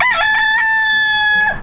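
A rooster crowing on a school farm, one loud, close, sustained crow that rises and then holds steady before cutting off, with a brief cluck at the start and no talk.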